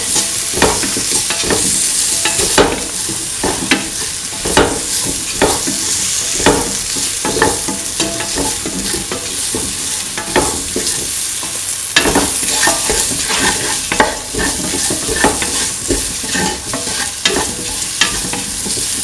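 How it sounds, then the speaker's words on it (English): A spoon scrapes and knocks rhythmically against a pan as spices are stirred into a tofu, potato and coconut milk stew, over a constant close sizzle and with no speech. "Thoroughly mix in the spices."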